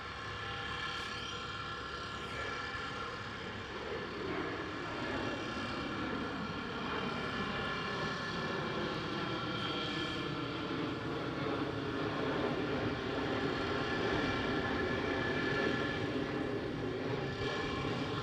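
At Amsterdam Schiphol a KLM Cityhopper Embraer E190 jet produces a sustained engine drone with shifting whining tones that slowly rise and fall, moderately distant and unaccompanied by voices.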